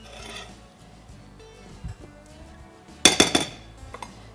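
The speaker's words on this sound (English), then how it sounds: "I'm gonna give it a little scrape." A spatula knocks and scrapes around a mixing bowl of chocolate cake batter, giving a quiet muffled stretch and then a quick cluster of sharp clinks close by.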